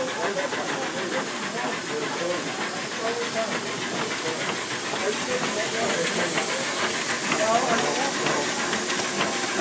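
A steam engine runs at a steam-up event, giving off a steady, loud broadband hiss of escaping steam with faint mechanical rhythm underneath, continuous for the whole stretch.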